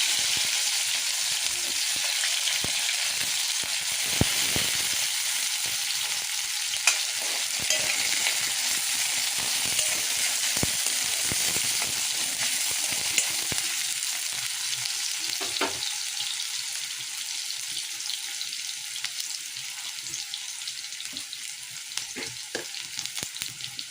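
Onions fry in a pan with fenugreek seeds and oil for a drumstick and raw prawn curry, giving a steady, dense sizzle that runs the whole time, with scattered crackles and the odd soft scrape of stirring.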